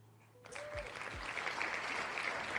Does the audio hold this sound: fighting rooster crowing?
no